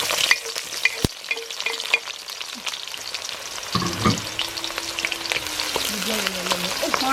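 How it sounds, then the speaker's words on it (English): Chopped onion frying in heated oil while cooking a Naga snail and potato dish, a steady close crackling sizzle with stirring scrapes and clatter throughout, with no speech. "For a minute you fry it."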